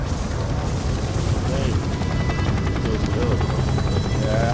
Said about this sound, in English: The GCPD is pulling back the helicopter due to the severity of the storm.